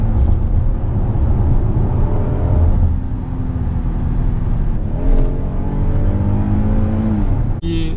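North American-market Hyundai Palisade engine revving hard in manual paddle-shift mode under sport mode, a loud sustained drone climbing in pitch toward the limiter, a brief dip and shift near the end.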